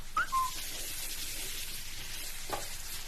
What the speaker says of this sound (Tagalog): Yan, nagigisa natin yan hanggang sa maging orange.